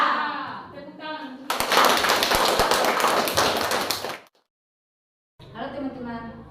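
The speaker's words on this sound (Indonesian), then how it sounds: "Tepuk tangan." A classroom of students breaks into loud, dense applause that lasts under three seconds and stops abruptly, with a teacher speaking before it and students talking after.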